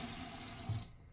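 A hotel bathroom sink tap runs with strong pressure, a loud, steady close rush of water that cuts off abruptly just before the end.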